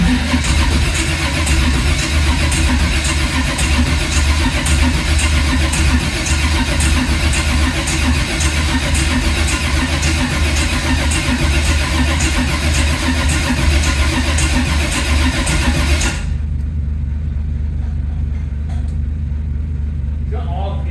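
A 1980 Camaro engine, cranked without certainty of spark, sends a continuous loud mechanical churn and rumble up close for about sixteen seconds, then cuts off abruptly into near silence.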